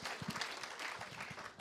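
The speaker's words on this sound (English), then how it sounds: "give yourselves a round of applause" An indoor audience at a live Q&A event at a racecourse gives a brief, faint round of applause, a soft scattered patter of hands lasting under two seconds.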